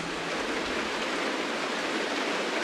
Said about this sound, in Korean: 이게 바로 빗소리란다.